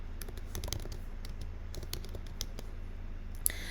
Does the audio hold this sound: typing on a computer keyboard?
yes